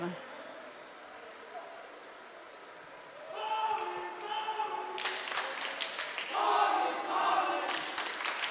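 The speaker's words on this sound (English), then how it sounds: "St. Thomas is very enthusiastic with their cheering always. It's fun to hear." At a high school boys' swim meet between St. Thomas Academy and Hastings, a team cheers loudly and excitedly at the poolside. After a few seconds of a quieter, echoing room, the shouting swells and stays strong, mixed with voices.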